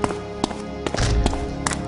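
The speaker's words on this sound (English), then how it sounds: "you can hear them banging on the doors already" Zombies bang on doors in The Dead Linger, a series of irregular dull taps and thuds at moderate distance over faint game background.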